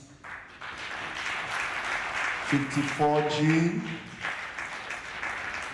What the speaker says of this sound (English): as I mentioned their name one by one, please give them a round of applause